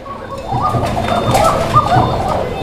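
A pair of Bashiraj Kokah pigeons coos in close, repeated throaty calls that overlap steadily throughout, with faint background noise and no speech.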